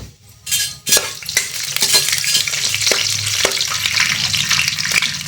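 Cumin, tempering chillies, dried red chillies and two bay leaves crackle and sizzle steadily in hot oil in a kadai, with a loud burst as they go in, then continuous frying hiss and occasional spoon clinks against the pan.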